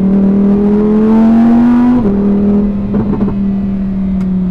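A Lamborghini Huracan Tecnica's 632bhp V10 revs steadily upward under acceleration, loud and close, then its pitch drops sharply as a fast gearshift cuts in around the two-second mark before the engine pulls on.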